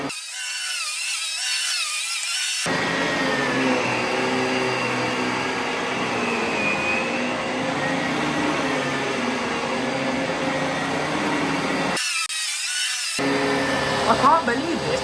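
A Dyson DC17 Absolute upright vacuum cleaner runs on carpet with a loud, steady whirring drone that cuts out briefly, while someone talks near the end.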